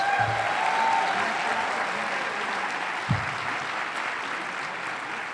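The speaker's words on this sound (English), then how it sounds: "I'd like for them to stand, remain standing, and accept our applause" Audience applause at a political inauguration ceremony greets a state senator being asked to stand, a steady dense clapping that holds evenly throughout, with a brief thump partway through.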